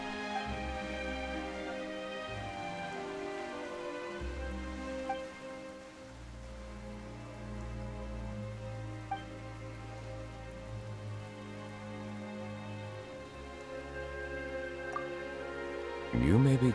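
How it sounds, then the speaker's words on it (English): Steady, close rain hissing without pause in a video game, layered over a low sustained musical drone, with a sharper swell right at the end. "Why is it raining all of a sudden?"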